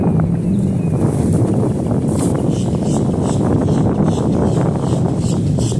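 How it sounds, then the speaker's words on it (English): Steady, loud wind buffeting the microphone outdoors by the water, a continuous low rumble with gusty texture and no voices. "It's pretty windy out here today too, right here on the water."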